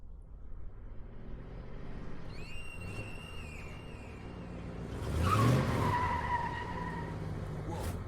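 A car engine hums beneath a sharp tire squeal that rises midway, with a louder skidding burst, then the engine drones on.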